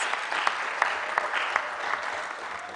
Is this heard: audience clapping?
yes